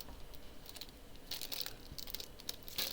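Plastic bags from a Lego Ninjago set are handled near the mic, giving short bursts of crinkling and rustling separated by quiet gaps.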